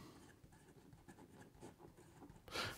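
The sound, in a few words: Esterbrook Estie fountain pen writing on paper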